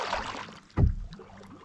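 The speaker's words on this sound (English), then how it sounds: "Our paddles hit the bottom pretty regularly at this point." A canoe paddle strikes and scrapes the shallow bottom of Lake Manly in Death Valley with a single soft thud and gurgle of water, faint and close amid quiet lapping.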